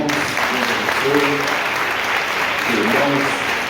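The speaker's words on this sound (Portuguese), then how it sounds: "Uma salva de palmas, irmãos." Church congregation at an Assembly of God harvest festival service gives sustained applause, a dense steady wash of clapping throughout, with a few voices rising faintly beneath it.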